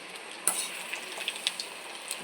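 Dried red chillies frying in hot oil for a yam curry give a steady soft sizzle, broken by sharp little pops and light clinks of a spoon stirring in the pan.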